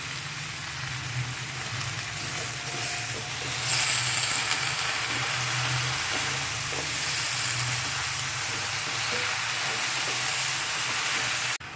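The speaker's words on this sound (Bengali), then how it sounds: "শীষ পালক দিয়ে সবজির সঙ্গে 2 মিনিট মতো ভেজে নিলাম" Spinach stems frying with vegetables in a pan give a steady, close sizzle and hiss that carries on without a break and swells slightly partway through.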